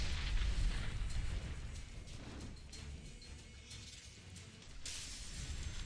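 Cannon fire bombards the area in the Dungeon Siege III video game, heavy rumbling explosions rolling one into another, loud and dense, with a fresh blast near the end.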